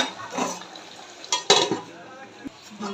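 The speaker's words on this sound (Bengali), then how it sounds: "এখন নাড়াচাড়া দিয়ে নাড়াচাড়া দিয়ে আবার ঢাকনা দিয়ে" A spoon or spatula stirs chicken liver curry in a pot, with a few short scraping clatters against the metal over a soft background simmer, fairly close and moderately loud.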